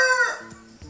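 A rooster crows loudly and close by, a drawn-out strained call, followed by a couple of short clucks.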